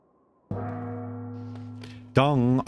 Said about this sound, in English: is that the bell for the gong?